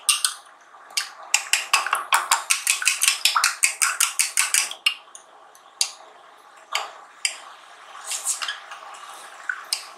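A metal spoon stirs salt into homemade mango syrup, giving quick, bright clinks against the glass or bowl in a fast regular run that slows into scattered taps, close and clear.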